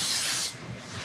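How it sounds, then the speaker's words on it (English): Vegetable spray hisses from a can onto the top of multigrain bread dough in a bowl, one short close burst that stops halfway, followed by a soft rubbing rustle. "spray the top with a little bit of vegetable spray"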